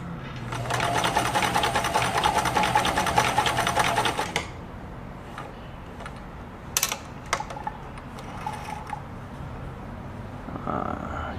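A Kenmore 1341 sewing machine runs a fast, steady stitch test for about four seconds, then stops, leaving quiet room tone with a few faint clicks and handling knocks.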